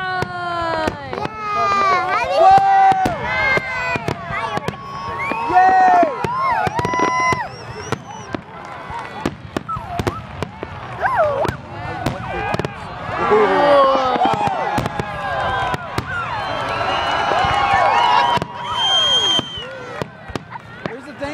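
A Fourth of July fireworks finale crackles and booms almost continuously, dense overlapping bursts with a crowd of adults and excited children cheering and talking throughout.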